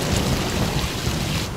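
Loud, heavy rain pours in a dense, steady roar, with a low rumble of thunder running beneath it. No one speaks during the downpour.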